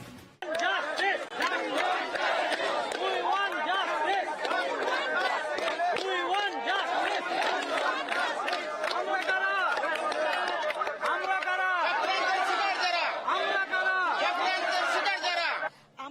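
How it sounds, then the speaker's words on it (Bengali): Sit-in protesters at Hazra crossing chant slogans as a loud, continuous crowd, many voices shouting together in rhythmic bursts throughout. "বসে পড়েই চলে বিক্ষোভ, স্লোগানি"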